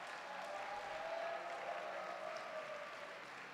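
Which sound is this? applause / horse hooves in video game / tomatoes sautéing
applause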